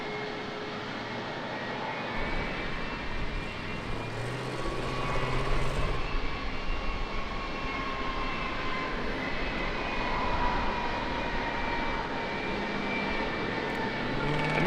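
A fixed-wing airliner departing San Diego airport, its engine roar holding steady and fairly loud throughout, swelling slightly midway, heard alone without talk.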